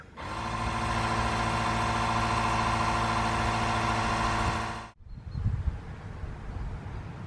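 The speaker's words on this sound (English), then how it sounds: "We've connected the makeshift air pump here to the battery, and we're going to pump it up to 60 psi." A makeshift air pump wired to a battery runs with a steady, loud mechanical hum for about five seconds while inflating a tire to 60 psi, then cuts off abruptly, leaving faint low rumbling and handling noise.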